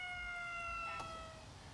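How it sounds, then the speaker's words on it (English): A faint emergency vehicle siren holds a steady wavering tone over low background rumble for under two seconds, with no voices. "Whenever you hear a siren from an emergency vehicle, like ambulances, fire trucks, and police cars"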